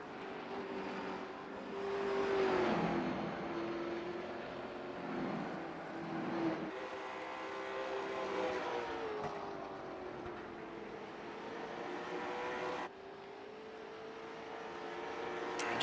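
Late model stock cars race around a track, one of them a Ford Thunderbird. Their engines give a steady, droning roar that rises and falls as the cars pass, and no voices are heard over it.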